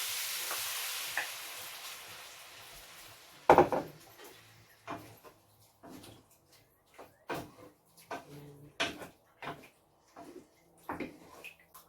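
Coconut milk poured into a pan of Bicol Express, with an opening hiss and splash followed by a series of spaced stirring scrapes and taps, moderately close.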